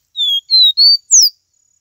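A caboclinho, or capuchino seedeater, sings four clear whistled notes in a quick series, close and loud, with no other sound around them.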